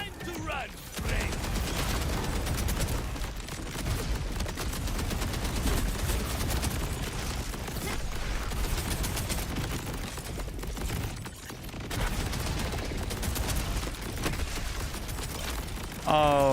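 SMG fire in the shooter game Borderlands 4, a dense, continuous rattle of rapid shots and mechanical clatter sustained for most of the stretch, loud and busy, with brief breaks and some faint game sounds.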